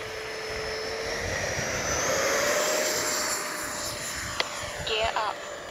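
An RC F-16 70mm electric ducted-fan jet model, E-flite or Freewing, flies a speed trial with a steady, high-pitched whining rush that swells and fades with distance, over outdoor wind noise and a few brief clicks.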